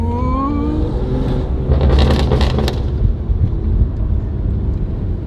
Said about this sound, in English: the tones of this exhaust, it's very, very noticeable